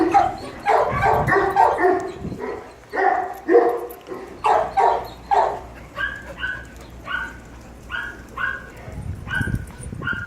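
Several dogs gathered to socialise a new dog bark and yip close by, quick bursts of barks at first, then a steady series of separate higher yips with short pauses.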